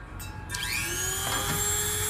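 A Stihl chainsaw chain is sharpened with a power grinder that whines up to a steady high-pitched pitch, close and loud, with no talking.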